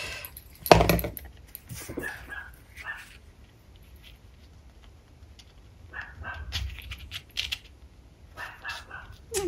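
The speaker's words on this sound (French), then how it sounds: "je sais pas si vous entendez mon petit chien qui s'en donne à cœur joie dehors." A small dog barks a few times in sharp bursts from some distance away, with scattered rustling and clinking sounds around it.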